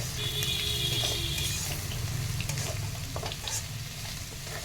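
Steady sizzling and crackling of potatoes frying in a pan on a gas stove, with occasional clinks of a utensil; close and fairly loud throughout, no talking.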